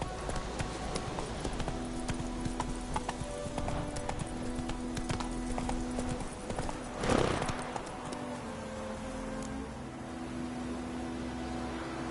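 Horse hooves clip-clop steadily while riding in The Witcher 3, a continuous moderately loud rhythmic patter with a brief louder burst midway.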